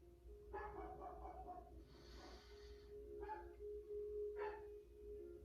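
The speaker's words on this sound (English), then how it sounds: "if you hear my German Shepherd barking" A German Shepherd barks and huffs a few times in a quiet room, with a low steady hum underneath.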